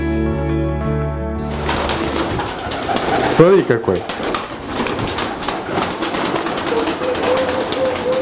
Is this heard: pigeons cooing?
yes